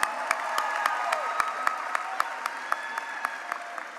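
A crowd applauds graduating students at a girls' leadership academy graduation ceremony, with steady, dense clapping and a few sharper claps standing out, continuing throughout without speech.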